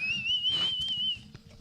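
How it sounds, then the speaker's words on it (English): A thin, steady high whistle like a steam kettle going off, sustained for over a second at low level beneath faint background noise in a podcast recording. "There's like a steam whistle going off there. Like a kettle."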